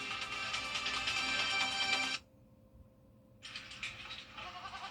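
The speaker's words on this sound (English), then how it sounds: "What's with all the goats?" Goats in a TV advertisement bleat in a loud, dense chorus, break off into near-silence for about a second, then start up again.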